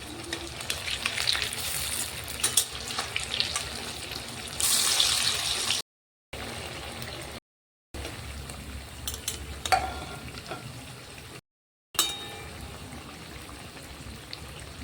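Fritters of masoor dal and banana flower frying in hot oil give a steady close sizzle, broken by short cuts, with scraping and clacking as they are turned over one by one.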